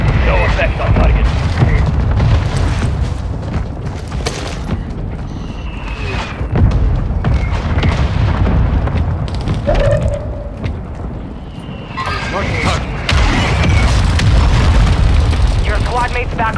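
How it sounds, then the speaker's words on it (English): Mortar strike explosions in Call of Duty Warzone 2.0 land as loud, heavy booms that rumble one after another across a noisy battlefield, with radio-style voices speaking among them. "Our mortar strike enemy is inbound."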